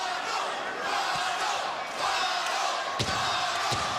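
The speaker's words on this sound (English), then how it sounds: "Hometown crowd starts cheering Ronald for Cruz." Hometown crowd at a boxing match cheering between rounds, a loud sustained roar of many voices with a couple of sharp knocks or slaps near the end.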